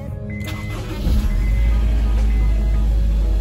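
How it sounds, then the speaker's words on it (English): A Honda S2000 engine cranks and catches, then settles into a loud, steady idle close by. "Let's go ahead and turn on the car."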